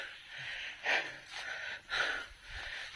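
Heavy panting breaths, two strong rasping exhalations about a second apart with softer breathing between, close and alone without talk.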